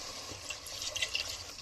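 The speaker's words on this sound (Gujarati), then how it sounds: "તો હવે આપણે આની અંદર પાણી નાખીએ છીએ" Water poured from a glass into a pot of cooked spiced masala for a lentil pulao, a steady soft splashing and gurgling pour heard close up with no talk.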